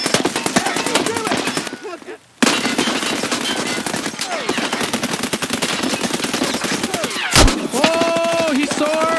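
Rapid bursts of automatic gunfire fill a first-person shooter match, loud and nearly continuous, with brief pauses, a single louder blast near the end and shots from several directions as players talk over the action.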